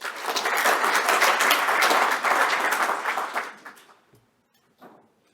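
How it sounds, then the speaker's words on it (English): A live audience gives a warm round of applause to welcome presenters at a biomedical engineering facilities launch, loud sustained clapping for about three and a half seconds that then tapers off to near silence. "Let's welcome our two presenters, first with Laura, with a warm round of applause."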